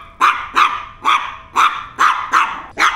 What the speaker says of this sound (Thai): อันนี้คือเห่าสุ่มคราวนี้เวลาเห่าสุ่มเงี้ยครับ